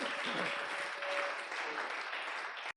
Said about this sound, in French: Est-ce que tu peux un peu acclamer?